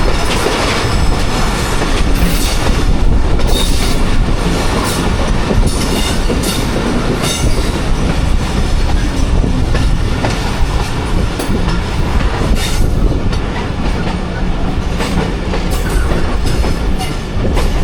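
Aboard the Jaffar Express between Attock and Rawalpindi, the train rolls at slow speed past a waiting express, with a loud steady rumble and repeated clickety-clack of wheels over rail joints and occasional wheel squeal.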